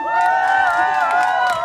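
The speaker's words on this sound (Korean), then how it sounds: "여러분 뜨거운 박수 부탁드립니다" At a street rally, a crowd cheers with a sustained roar of shouting voices. It is loud and close throughout the short burst, with little distinct clapping.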